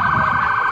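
An ambulance from the John F. Kennedy Medical Center wails with a loud, steady siren tone that holds continuously, close by, with no talking.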